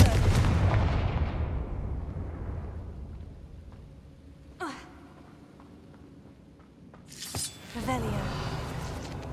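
A Confringo fire spell from the Hogwarts Legacy video game erupts in a loud, booming blast that rolls off into a long fading rumble, followed by sharp crackling bursts and another heavy impact near the end.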